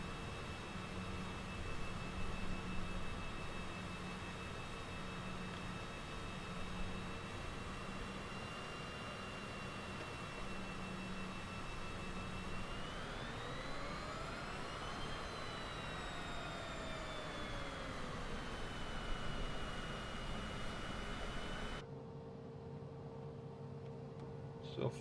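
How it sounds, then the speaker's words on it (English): A Cessna Citation jet drones steadily in flight, with a whining engine tone that swells and bends upward midway before settling, then the sound cuts abruptly near the end. "But this is the plane I'm flying. It's a Cessna Citation."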